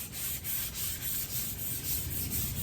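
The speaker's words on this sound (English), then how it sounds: "I'm not going to grind into the surface with this sandpaper." Hand sanding an old 1960s stained wood shelf with 400 grit sandpaper, a steady rhythmic rasp of strokes back and forth, close and continuous with no talk.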